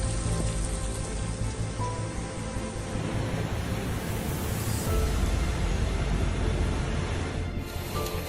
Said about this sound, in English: Strong storm in the evening in Chihuahua.